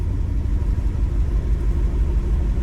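A Chevrolet Monza engine, just started cold on ethanol with the choke pulled after two days parked at a chilly beach, idles with a steady low rumble, close and alone.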